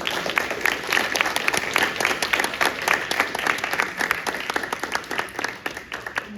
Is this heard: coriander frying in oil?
no